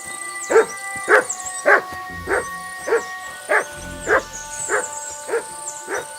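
A dog in the video game Kingdom Come Deliverance 2 barks about ten times in an even, steady rhythm, close and clear, with faint game ambience underneath.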